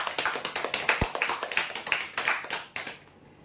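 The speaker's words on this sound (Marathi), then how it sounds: "जोरदार टाळ्या उद्या" Applause at a weekly prize draw for the second-place winner of a 2.5-foot fibre cooler: a small group claps in a quick, steady patter that trails off at the end.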